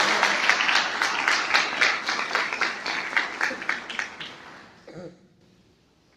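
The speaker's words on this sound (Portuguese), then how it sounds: "Vamos dar uma salva de palmas à palavra do Senhor." A congregation applauds after a Portuguese-language Bible reading, a dense round of clapping for about four seconds that quickly dies away to near silence.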